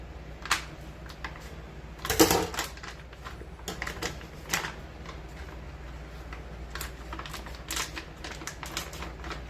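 Irregular crisp snips and crinkly cutting sounds, with one loud rustling crunch, as scissors cut open a paper bag of King Arthur 00 flour.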